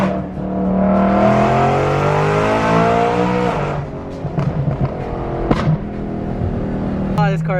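A loud BMW E92 M3 engine revs hard while driving, rising through the gears in strong harmonic sweeps, then easing off into lower burbles and pops, with a voice speaking briefly near the end.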